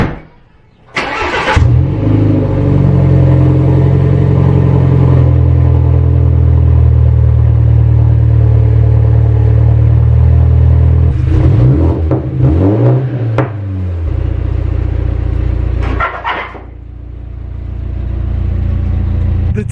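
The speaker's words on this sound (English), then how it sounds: "We're gonna hear how the AWE track exhaust sounds on the new G20." A BMW G20 fitted with an AWE track exhaust starts with a sharp bark, then idles with a deep, loud rumble up close, with revs swelling and dropping a couple of times before settling back to a steady idle.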